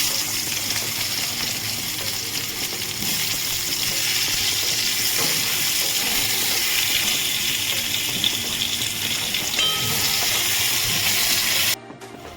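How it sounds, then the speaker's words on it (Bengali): Potatoes frying in hot oil in a kadai (wok) for a Bengali rui fish curry: a loud, steady, close hissing sizzle that runs unbroken and cuts off abruptly near the end. "আর একটু তেল দিয়ে আমি আলুগুলো ভেজে নেব"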